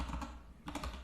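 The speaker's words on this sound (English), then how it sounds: "just type the URL" Quick keystrokes on a computer keyboard as a URL is typed, a short burst of close, soft clicks in two clusters with a brief pause between them.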